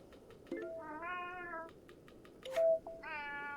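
Several close, clear cat meows, one long drawn-out call followed by a shorter one and then another, with a brief sharper squeak between them over a quiet room.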